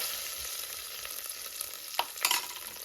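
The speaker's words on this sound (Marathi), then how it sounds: "ओके तर आपली आलं लसूण पेस्ट पण जराशी भाजलो आपण." Ginger garlic paste fries in a pan, with a continuous soft sizzle and a couple of brief stirring scrapes near the end.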